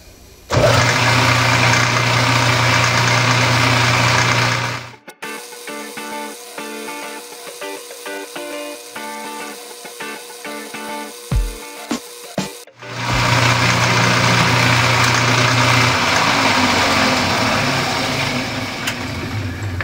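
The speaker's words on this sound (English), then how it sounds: "Predictable bit of chatter, not too bad." Metal lathe turning down the diameter of a part, with tool chatter: loud, steady broadband machining noise runs for several seconds, drops to a quieter, tonal whir in the middle, then resumes at full level.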